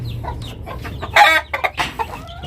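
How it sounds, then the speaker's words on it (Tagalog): Farmyard chickens, Texas and Rhode Island birds, cluck and squawk with loose chicks nearby, a steady low murmur of fowl broken by a louder sharp squawk midway, close and clear. "yung Texas at saka yung mga sisiw, ayan o, nakawala yung mga sisiw"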